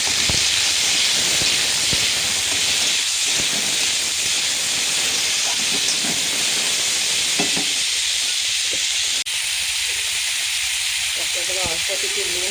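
Tomatoes frying in a pan with a loud, steady hiss and sizzle close by, continuous throughout, with faint voices beneath.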